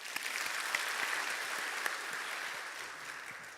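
A church congregation at a Sunday worship service claps steadily as a member comes up to give her testimony. The applause is moderately loud and tapers off toward the end.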